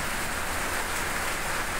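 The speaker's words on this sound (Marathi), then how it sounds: "पडला पाऊस" Steady rain pours down in a dense, unbroken hiss that fills the air evenly throughout, loud and close, with no voices.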